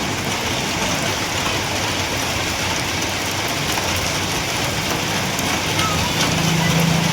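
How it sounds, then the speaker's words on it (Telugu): Steady rain falling over an open farm field near Adoni, a continuous broadband wash of drops hitting the ground and crops, loud and constant throughout with no talk. "ఇది వచ్చేసి ఆదోని దగ్గర అయితే వర్షం పడడం జరుగుతుంది"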